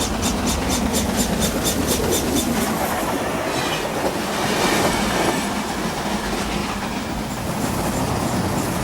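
The Flying Scotsman steam locomotive rumbles past at speed on standard gauge track, wheels clattering in a steady rhythm and a chuffing roar filling the air, loud and close.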